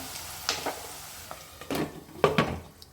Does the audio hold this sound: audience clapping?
no